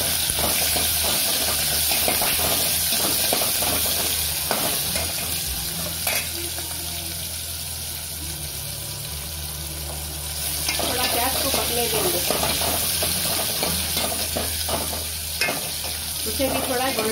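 Chopped onions sizzle and fry in a pan for a cumin and black pepper dish while being stirred, giving a loud, continuous crackling hiss with scraping stir sounds throughout.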